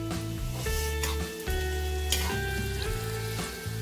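Garlic sizzling in hot oil while being stirred in a home kitchen pan for poha chivda, a steady close frying crackle with a few soft utensil scrapes.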